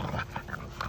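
Char dog Mufasa whimpering nearby, a string of short high whines and soft yips, close and fairly clear against a quiet room.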